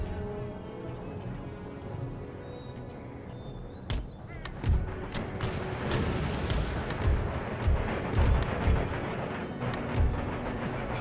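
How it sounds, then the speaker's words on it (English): Musket volleys crackle and boom across a battlefield in Empire: Total War, with scattered sharp reports that build into heavy rolling bursts of gunfire over a continuous low rumble of battle. "Damn, they're firing."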